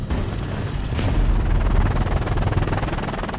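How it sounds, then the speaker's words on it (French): A Fennec military helicopter flies close by, its rotor throbbing in a dense, rapid low chop that stays loud and steady throughout. "Un hélicoptère Fennec avec à son bord un tireur d'élite"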